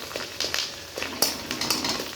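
Fish roe fries in a pan while being broken up, with a steady hiss and soft scraping and tapping strokes from the utensil. No one speaks.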